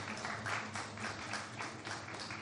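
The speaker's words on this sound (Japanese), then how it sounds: "拍手お願いします" Faint, distant applause greets boat racer Kiryu Junpei's entrance at a boat race venue, a soft continuous patter of clapping crowd throughout.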